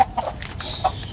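A chicken clucking up close in a rural Philippine yard, a few short throaty clucks in quick succession, fairly loud and clear with no talking.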